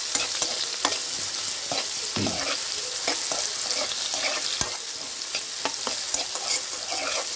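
Chopped carrots frying in a pan with potato and rice, a constant close sizzle broken by repeated scraping and clinking of a spoon stirring, no voices.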